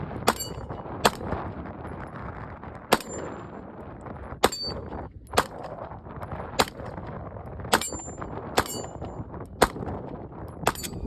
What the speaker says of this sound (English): How about I include some shots from the range?